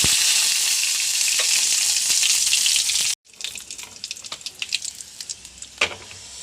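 Dried red chilies and curry leaves sizzle in hot oil as a tempering for an ash gourd buttermilk curry: a loud steady fry hiss, then after a brief cut, sharper irregular crackles and pops, with no talking.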